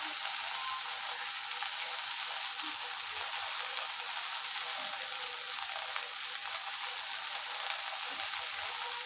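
Okra with salt and turmeric fries in hot oil, giving a continuous, fairly soft sizzle and crackle with occasional faint knocks from stirring.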